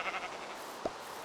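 A brown sheep in a Minecraft-style superflat world bleats once, a short faint call near the end over low background noise.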